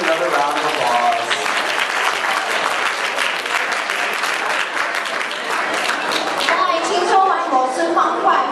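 Steady, full applause from a scholarship awards dinner audience rewarding a Rubik's Cube performer carries on for several seconds, dense and loud, thinning slightly near the end as scattered voices rise through it.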